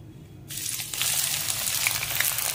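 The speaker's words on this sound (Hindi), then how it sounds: "अब यहाँ पर ऑयल के गर्म होने के बाद 1 बड़ा प्याज लिया है, जिसको यहाँ पर हमने स्लाइस में कट कर लिया है, ये डाल देंगे।" A large sliced onion drops into hot mustard oil and bursts into a loud, close sizzle that starts suddenly after a quiet moment and then holds as a dense, steady frying hiss.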